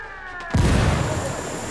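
A frag grenade goes off in the video game Ghost Recon Wildlands: a sudden, loud, low boom that rumbles away over about a second, after a quieter stretch of game sound.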